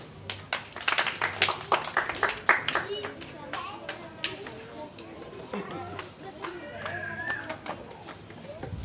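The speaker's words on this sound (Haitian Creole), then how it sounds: "On applaudit Hélène." An audience at a children's show gives a brief burst of uneven hand clapping, close and fairly loud, which fades into children's chatter and voices before a poem recital.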